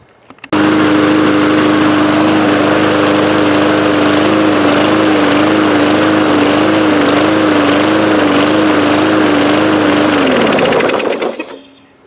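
A small Poulan Pro push lawn mower engine runs loud and steady with a buzzing drone, then winds down and cuts off near the end.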